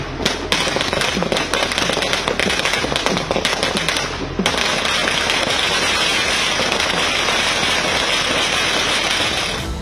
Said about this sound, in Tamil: இனிப்புகள் வழங்கியும் பட்டாசு வெடித்தும் கொண்டாடினர்.